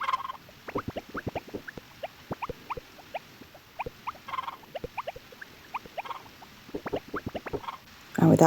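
Chickens inside a coop in the game Harvest Moon: Back to Nature make quick, scattered clucks and pecking-like clicks over a soft background, a busy irregular pattern running throughout.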